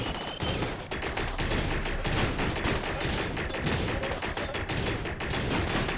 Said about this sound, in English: A lot of shots, but it doesn't seem to be doing much damage per shot.